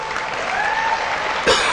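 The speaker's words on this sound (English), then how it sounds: "Give yourself a round of applause." An audience breaks into applause, a steady, dense wash of many hands clapping at moderate distance, with a brief thump near the end.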